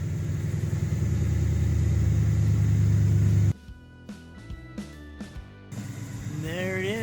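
Ford F-150 with a Coyote 5.0 V8 and Magnaflow exhaust rumbles loud and steady at idle, then cuts off; after a pause of faint knocks, a lower engine drone returns while a tonal whine rises at the end.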